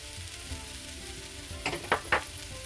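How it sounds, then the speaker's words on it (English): Tofu scramble with mushrooms and cumin fries in a pan with a steady soft sizzle, and three quick scraping stirs stand out near the end; close and moderately quiet, no talking. "I'm gonna stir. And we're gonna allow that to saute"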